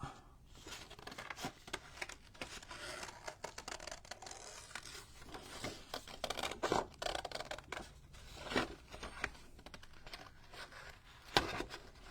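Scissors snip and rustle through paper being loosely cut out for a junk journal, a quiet, close run of irregular crisp cuts and crinkles.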